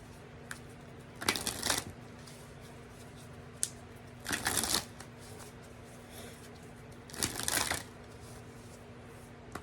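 Tarot cards are shuffled in three brisk bursts of riffling and flapping, each about half a second long, close and crisp with quiet pauses between them and no talking.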